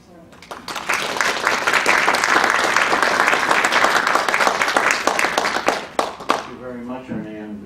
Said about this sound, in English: join me in a round of applause to thank them for their service